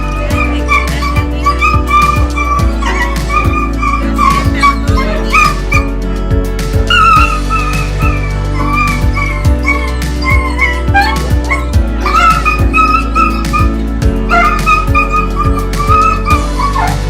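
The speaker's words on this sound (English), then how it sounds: "This dog's emotional state goes from fear to gratitude in a matter of seconds after a brave police officer cuts it loose from an entangled bedsheet." A frightened dog whimpers, yips and gives short barks while a police officer cuts it loose from an entangled bedsheet, the close, repeated cries coming over a steady low background hum.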